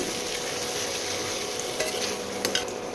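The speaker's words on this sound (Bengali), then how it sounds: "আলু দিয়ে দেখো মশলাটা দেখো কষিয়ে নিয়েছি।" Potatoes cook in ginger-garlic paste and cumin masala, giving a continuous close sizzle with a few light scraping and stirring clicks near the end.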